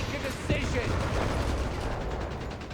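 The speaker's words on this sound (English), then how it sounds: "MP40s and Flamethrowers here versus the Scouts, who are absolutely not ready for it" MP40 submachine guns and flamethrowers firing in a Company of Heroes 3 battle: a dense, continuous roar of gunfire and flame with no clear gaps, steady and loud throughout.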